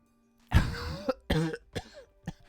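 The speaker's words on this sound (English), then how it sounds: "It's just a cough is all." A person in a video game cutscene coughs close up in a short fit of three or four harsh, rasping coughs, the first loudest and the rest fading to throat clearing.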